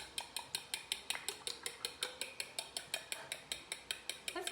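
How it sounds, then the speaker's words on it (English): A spoon clinks rhythmically against a pot while stirring Southern-style mac and cheese with eggs, about five sharp metallic taps per second, steady and close, without speech. "And I'm going to stir that up real good."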